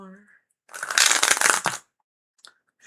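Tarot cards shuffled in one loud riffle of about a second, dense rapid flutter, preceded by a brief voice and followed by small taps.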